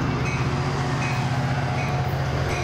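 A San Diego Trolley light-rail train rumbles past close by, a steady loud roar of wheels and carriages with a faint rhythmic clatter.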